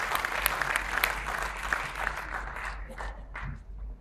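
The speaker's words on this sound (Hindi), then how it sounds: "एक बार जोरदार तालियां" An audience in a hall in Seawoods, Navi Mumbai applauds to welcome a poet to the stage, a dense, steady clapping that runs close and full before thinning and tapering off near the end.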